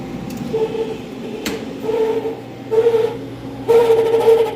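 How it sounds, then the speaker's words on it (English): A C-frame motor on a restaurant prep table runs with a failing bearing, giving a steady droning hum with a whining, warbling tone that swells in several uneven surges. "That is a bearing going out on a C-frame motor, is my guess."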